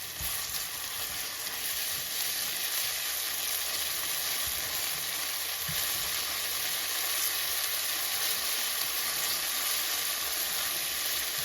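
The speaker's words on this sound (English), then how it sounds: "now I'm gonna add the garlic in to fry up with it. I'm gonna fry this together." Garlic frying in a pan gives a continuous bright hiss and crackle at a moderate, even level, with a few soft stirring bumps now and then and no talking.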